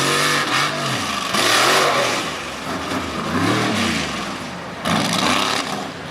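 Tough truck racing engines roaring on a dirt and gravel track, loud revving that rises and falls in repeated surges as trucks accelerate through the course, close and powerful with no voices over it.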